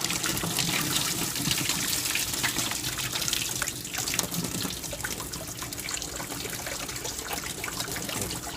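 Water runs steadily from a tap while scallops are rinsed and cleaned, a continuous splashing trickle with small shifts as the shellfish are handled under the stream.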